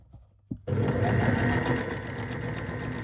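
A sewing machine stitching trouser fabric starts after a couple of soft clicks, then runs in a steady, close, fast whirring hum that continues to the end.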